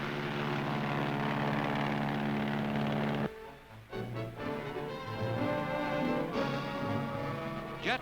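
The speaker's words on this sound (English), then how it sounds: "jet propulsion device designed to get Navy aircraft into the air faster, with heavier loads, and in less space." Navy aircraft with jet propulsion units fastened to the fuselage for assisted takeoff, a loud sustained engine roar that cuts off abruptly then resumes with rumbling, clanking mechanical noise.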